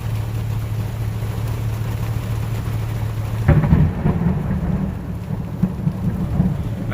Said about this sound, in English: Cause this rain don't want to stop. It's raining again.